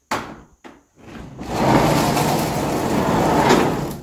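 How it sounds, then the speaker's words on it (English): An old sliding door on a sugar shack opens: two short knocks, then a long loud rolling scrape that runs steadily for several seconds, close by. "Sliding door there."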